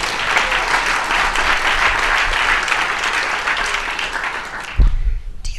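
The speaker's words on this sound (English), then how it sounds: "that's a round of applause for..." Dinner audience at a leadership network launch gives loud, full applause that fades out near the end, followed by a brief thump and room noise.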